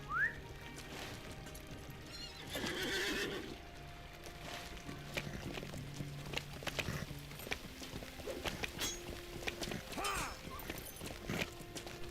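Hooves clop steadily under a continuous outdoor ambience in the video game Lord of the Rings Online, with occasional whistling tones and a faint horse sound in the background.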